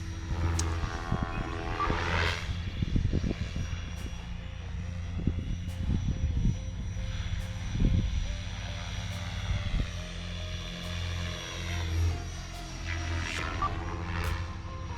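An Align Trex 500 RC helicopter flying flips, its rotor and motor whine sweeping up and down in pitch as it moves nearer and farther, steady and moderately faint outdoors without speech.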